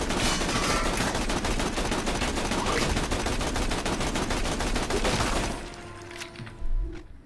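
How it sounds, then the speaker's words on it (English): Rapid automatic gunfire from skeleton enemies in the video game Tiny Tina's Wonderlands, dense and loud for about five seconds, then cutting out to quieter game sounds with a short final burst. "They start shooting at you!"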